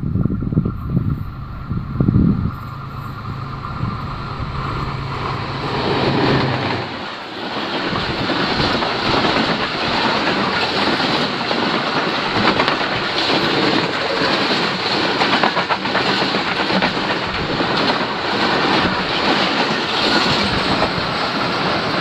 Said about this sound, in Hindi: नायना पलामा इकबाल एक्सप्रेस आ रही है जिसको 4565 लगा हुआ है